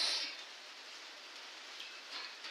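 Steady soft hiss of rain falling outdoors in Makilala, even and continuous, with no voices.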